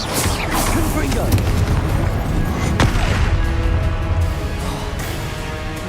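Confringo explosive spell blasts in the video game Hogwarts Legacy, loud booming bursts over a dense rumbling battle mix while a voice calls out spell names.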